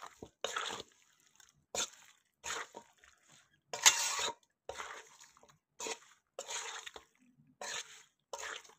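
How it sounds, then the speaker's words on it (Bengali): Mango pickle with grated mango is stirred after blender-ground spice powder is added, giving a series of short, moist squishing and scraping bursts at an irregular rhythm, close and clear with quiet gaps between. "নাড়াচাড়া করে দেব"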